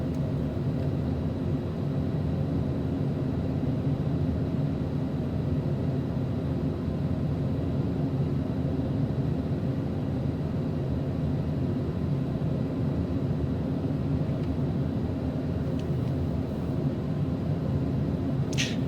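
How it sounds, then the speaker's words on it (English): Aircraft on landing approach with full flaps and gear extended, en route from Banda Aceh to Singapore: a steady, moderately loud broadband cabin rumble and rushing airflow throughout, with no voices. "we have full flaps and we have gear out"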